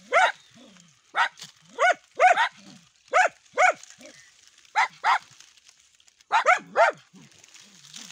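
Dachshunds bark at a cobra in sharp, repeated single and double yaps spread across several seconds, fairly near, with quiet gaps between and a voice faintly in the background.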